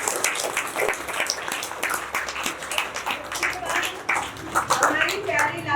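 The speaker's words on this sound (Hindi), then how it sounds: "तो बिल्कुल जोरदार तालियां हो जाए" Live audience applause at a stage play of Boodhi Kaki as a cast member is introduced, a dense, sustained clatter of many hands clapping loudly throughout, with voices mixed in.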